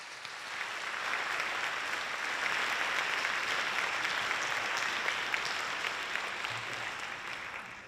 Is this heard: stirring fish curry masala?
no